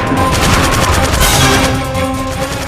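Dense, sustained gunfire rattles loudly through a video game firefight against soldiers around a stairway, continuous bursts overlapping throughout with a heavier blast partway in, and no talking.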